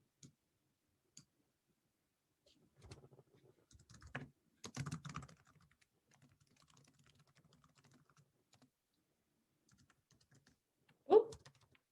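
Typing on a computer keyboard: scattered clusters of soft keystrokes in the middle of the clip, with a few isolated clicks before them and one sharper click near the end, all fairly quiet.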